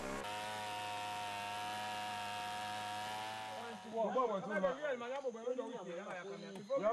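A chainsaw engine drones steadily for a few seconds while cutting wood for a canoe, then cuts off as a voice begins speaking.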